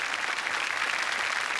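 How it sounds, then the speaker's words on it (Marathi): An audience at a Marathi comedy show applauds in a dense, continuous roar of clapping that holds steady throughout. "एकदा जोरदार टाळ्या रीमा लागू यांच्यासाठी झाल्या पाहिजेत"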